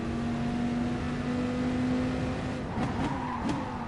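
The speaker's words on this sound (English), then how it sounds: "Those small taps on the throttle?" Race car in a racing game at Spa, a steady engine drone that shifts into a few quick throttle blips near the end, with faint tire squeal, no talk.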